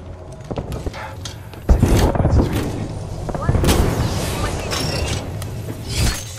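Airstrike explosions and gunfire in the Apex Legends video game, with a heavy blast at about 1.7 seconds followed by sustained loud rumbling and scattered shots, mixed with game voice lines.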